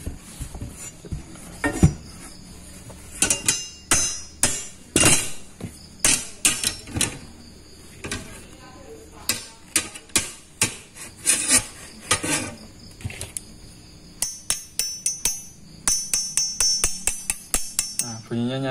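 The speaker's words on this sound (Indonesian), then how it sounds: "Nah, bunyinya nyaring. Itu menunjukkan kandungan karbon pada baja ini tinggi." A high-carbon steel Tramontina machete blade is struck again and again, giving a long series of sharp metallic hits with a bright ringing edge, close and fairly loud, with no talking.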